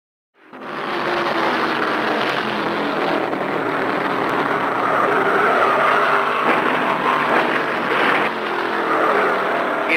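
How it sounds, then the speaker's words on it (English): Period NASCAR stock car racing from 1975, with a car losing control, careening up the track bank into the wall and being struck by a Mercury; a continuous loud roar of engines and skidding tires fills the whole stretch, with no talk. "when car 80, driven by Phil Finney, lost it, careened up the bank to the wall, then got hit by Charlie Blanton in the Mercury number 8"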